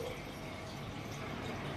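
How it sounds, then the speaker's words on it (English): Water poured from a tap into a jar holding a can of coconut cream makes a steady, close filling sound that runs evenly for its whole length without a break. "I fill the rest up with water,"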